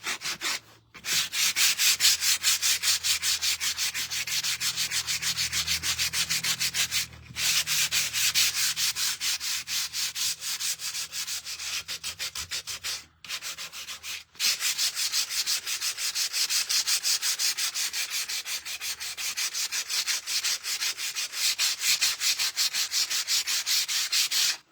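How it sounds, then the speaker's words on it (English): Painted wood is distressed by hand with 80 grit sandpaper, making a steady, rapid rasping scrub at close range that runs almost continuously, with a few brief pauses. "I'm just distressing it right now with my 80 grit sandpaper."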